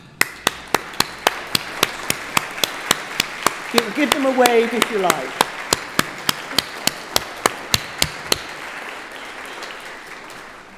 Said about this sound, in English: give their family and friends a round of applause